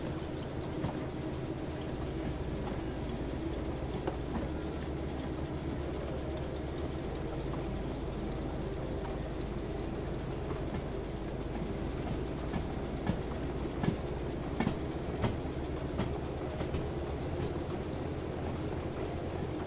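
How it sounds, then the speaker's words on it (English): Steam locomotive pushing a string of cars in the Derail Valley train simulator, a steady low rumble of running gear with scattered rail clicks and clanks, continuous and moderately near, no talking. "We're gonna push the steamer past the signs."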